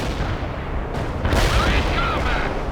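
Artillery fire in the battle game World in Conflict, dense rumbling explosions and booming impacts layered over a loud continuous battlefield din, with radio-style voices talking.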